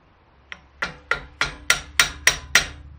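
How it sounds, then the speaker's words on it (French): A hammer taps a front wheel bearing into place on a 1997 Renault Twingo phase 1, eight sharp metallic knocks at a steady pace, each louder than the last, close and alone. "Donc le but est de le taper un tout petit peu aussi pour le mettre droit."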